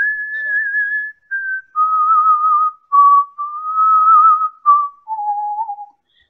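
A person whistles a Western cowboy film tune solo, a clear, close melody of sustained notes in several phrases that step gradually downward, with short pauses between them.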